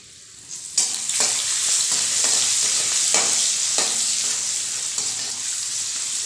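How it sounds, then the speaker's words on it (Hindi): Green peas drop into hot oil on a high gas flame, bursting into loud, close sizzling that holds steady, broken by a few soft stirring scrapes. "मटर को फ्राई करते समय भी गैस का फ्लेम हाई रखना है और तेल अच्छी तरीके से गर्म होना चाहिए"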